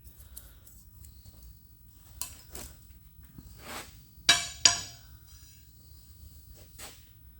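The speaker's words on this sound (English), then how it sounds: "So that was a pretty heavy scrape that we did" Hand scraping of a cast-iron bed on a Dean Smith & Grace lathe under repair: a few quiet, scattered scrapes, with two sharper strokes close together midway, in an otherwise quiet workshop.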